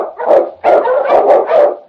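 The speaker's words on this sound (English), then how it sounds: "The Wonder Dog King, swiftest and strongest of Eskimo lead dogs, blazes the trail through storm and snow" An Eskimo husky lead dog barks loudly and close in a radio drama, three rough barks followed by the start of a fourth, with no talk over them.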